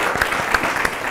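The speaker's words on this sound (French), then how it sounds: "Applaudissez-vous." Brief burst of audience clapping in a university hall in Abidjan, a few distinct claps standing out over a steady patter.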